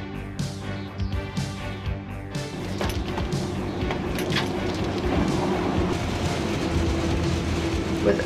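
Restored 19th-century train with six carriages in Tunisia: mechanical clatter and tonal squeals at first, then a steady rolling rumble and rattle of the carriages building as it moves, moderately loud.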